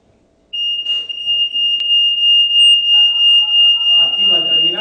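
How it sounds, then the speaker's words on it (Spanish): A telecare alarm terminal sounds a continuous loud high electronic tone, with a sharp click early on and a person starting to speak over the alarm near the end. "Activa el terminal, entrará la alarma."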